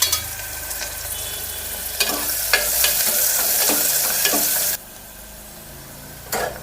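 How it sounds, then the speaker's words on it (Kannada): A large, finely chopped onion fries in oil with a continuous close sizzle, broken by several scraping spatula strokes. The sizzle drops abruptly to a quieter hiss near the end. "ಈರುಳ್ಳಿ ಎಲ್ಲ ಫ್ರೈ ಆಗಿದೆ."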